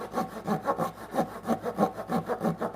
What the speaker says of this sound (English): It's real hard to saw evenly anyways.